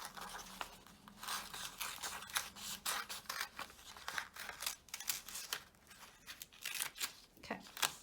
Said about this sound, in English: cut out some big chunks first